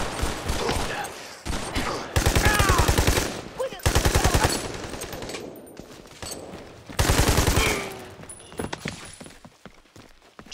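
Bursts of rapid machine-gun fire in the video game Army of Two: The Devil's Cartel, loud and close, with sustained rattling stretches broken by pauses and scattered single shots amid battle noise.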